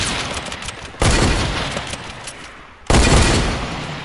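Two heavy bursts of video-game gunfire in a battle royale match, each striking hard and then trailing off in a long rumbling decay, loud and close with no talk over them.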